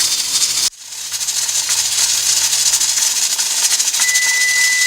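A pressure cooker hisses steadily and loudly as it cooks baby back ribs, releasing a continuous broad rush of steam after a brief dip near the start, with a faint whine joining later.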